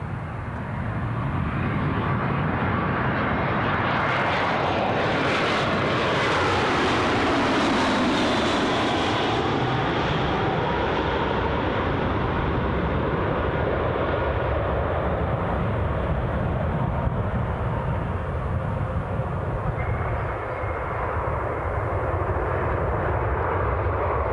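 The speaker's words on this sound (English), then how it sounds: "the British Airways Airbus A320 departed London 42 minutes ago" A British Airways Airbus A320 roars in overhead arriving at Newcastle International Airport, its engine noise swelling loud and close then holding as a steady broad rumble.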